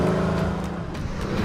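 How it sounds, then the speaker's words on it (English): Mercedes-AMG GLC 63 S from 2019 with its AMG switchable sports exhaust, giving a steady, loud, close engine drone with a rough low rumble held through a short burst, no voices. "With an AMG switchable sports exhaust system, it sounds just as good as it looks"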